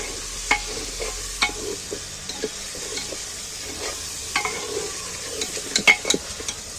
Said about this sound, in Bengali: দিয়ে আমি পেঁয়াজের সঙ্গে একটু নাড়াচাড়া করে নিচ্ছি, ভেজে নিচ্ছি।